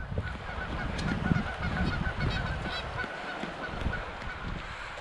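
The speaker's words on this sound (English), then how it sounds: "I can hear the geese, but I don't see them." Geese honk repeatedly in a snowstorm, a scattered series of nasal calls heard through a steady background wash, moderately distant and fairly faint, with no talking.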